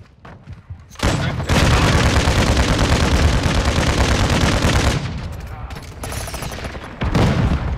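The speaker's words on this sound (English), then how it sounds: "Friendly mortar strike on the way." Dense, loud gunfire and heavy booms fill a Call of Duty: Modern Warfare II match on the Shipment map, with a mortar strike landing amid sustained automatic fire, easing briefly before a final burst.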